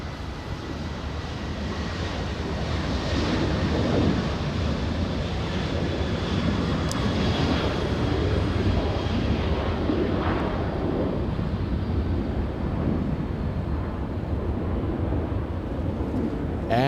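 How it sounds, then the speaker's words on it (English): WestJet Boeing 737-700 taking off at Los Angeles airport, bound for Edmonton: a steady, loud jet roar with broadband rumble that holds throughout, heard from a distance without speech. "WestJet taking off."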